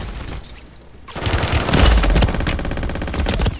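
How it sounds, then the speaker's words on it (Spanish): Rapid automatic gunfire from a Warzone firefight, a quieter stretch followed by loud, dense bursts of shots that run on for several seconds, close and sharp. "Y me dispara otro de quién sabe dónde"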